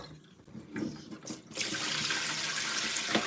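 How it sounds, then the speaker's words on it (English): A kitchen tap turns on after a few faint clinks, then water pours steadily into the sink in a loud, close, continuous rush that lasts to the end. "Takes a while for the water to get warm."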